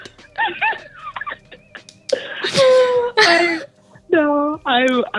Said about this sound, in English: I'm trying not to cough my lungs out.